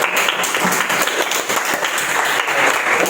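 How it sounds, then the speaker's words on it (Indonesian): Students in an Islamic religious education classroom break into lively applause, a dense patter of many hands clapping steadily for about three seconds, close and fairly loud, with no talking over it. "tepuk tangan untuk Hera."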